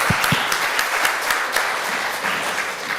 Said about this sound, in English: Let's give Sonia a round of applause.